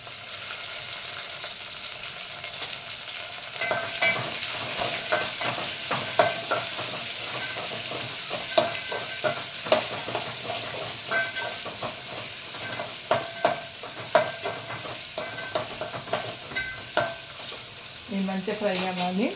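Carrots stir-frying for masala rice, a continuous loud sizzle broken by frequent sharp scrapes and taps of a spoon against the pan.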